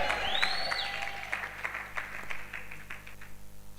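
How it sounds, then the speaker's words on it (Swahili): Church congregation applauding during a Swahili-language prayer service, with dense clapping and a rising ululation over a low music hum, lively and fairly close throughout. "mshangilie Yesu wewe na makofi na vigelegele."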